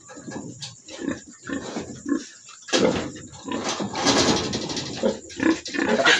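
Pig grunting repeatedly in a farm pen after artificial insemination of a sow, a run of close, loud, rough grunts and snorts with brief pauses, no talking.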